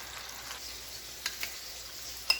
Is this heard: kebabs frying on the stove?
yes